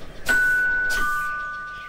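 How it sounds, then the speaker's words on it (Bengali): A doorbell rings inside a quiet home during the daytime, two bright ding-dong tones about half a second apart, their ringing tails fading slowly, heard alone without voices. "হঠাৎ কলিং বেল বাজতেই চুমকি ঝাঁট দেওয়া থামিয়ে বন্ধ দরজার দিকে তাকায়"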